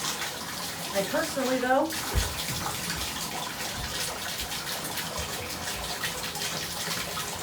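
Water runs steadily from a tap while curly hair is washed, a broad hiss that continues throughout, with a person speaking briefly over it near the start.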